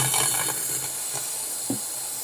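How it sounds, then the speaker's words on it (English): Steady hiss of carburetor cleaner sprayed into the intake of a 1996 Camaro 3.8L engine, continuous and close throughout, with a faint knock near the end. "I'm just going to hose this thing with carb clean"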